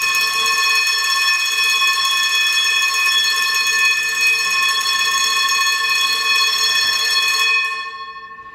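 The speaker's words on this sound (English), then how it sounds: "Yeah, I think it's an old school fire alarm." An old school fire alarm bell in a farmhouse under renovation rings loud and close with a continuous metallic clang, holding steady for several seconds before cutting off and fading.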